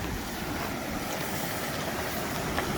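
A creek on the John Muir Trail on a rainy day, heard as a steady, broadband rush of flowing water, close and constant, with some wind noise and no talk.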